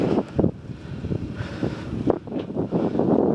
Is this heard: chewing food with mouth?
no